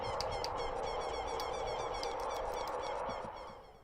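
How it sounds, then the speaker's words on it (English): A chicken in a video game clucks in rapid repeated bursts over a dense, steady background wash, the sound fading toward the end. "Come here, chicken."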